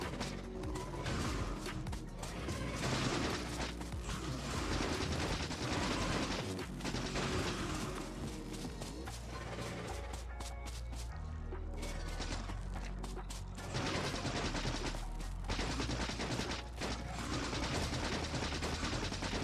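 Steady automatic gunfire from Factorio as biter nests are shot at, a dense, continuous rattle of rapid shots mixed with crunching hits and mechanical game noise, loud and unbroken throughout.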